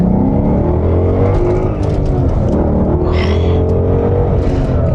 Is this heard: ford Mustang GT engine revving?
yes